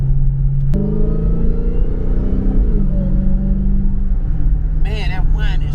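Dodge Hellcat with a supercharger, its engine revving through a rising and falling pitch over a deep rumbling exhaust, loud and close, with a high whine riding on top; a voice speaks near the end.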